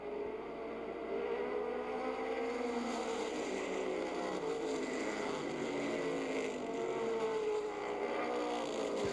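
Race cars running bumper to bumper down the back straightaway produce a continuous buzzing engine drone with shifting, overlapping tones, steady and fairly loud throughout, with no speech.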